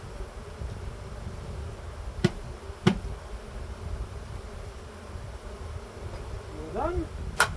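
Bees buzz steadily around a large hive being removed from a thin breeding box, a low continuous drone close by with a few sharp knocks and clatters breaking through.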